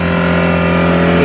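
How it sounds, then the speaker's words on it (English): A car engine idles with a steady, loud hum and strong low harmonics, held evenly throughout without any clear rise in revs. "He's just revving his car."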